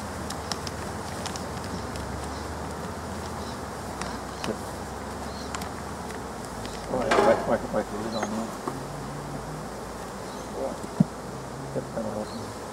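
Honeybees hum around their hives in a Scottish apiary, a soft steady buzz with occasional louder passes near the microphone and light handling knocks.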